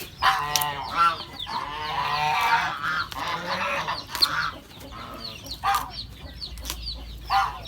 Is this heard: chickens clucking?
yes